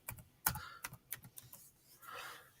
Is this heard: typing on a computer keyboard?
yes